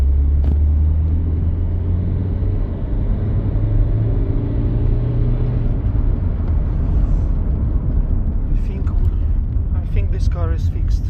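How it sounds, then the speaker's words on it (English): A Dacia Duster 1.5 pulls through the gears at full throttle, its engine a loud, steady drone with heavy low rumble that holds even throughout, accompanied by cabin noise and faint clicks near the end. "She accelerated really good now, really steady acceleration, as it should be."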